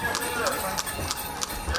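A horse pulling a carriage through a town's streets clip-clops in a steady, even rhythm of crisp hoofbeats at moderate distance, while a voice talks over it.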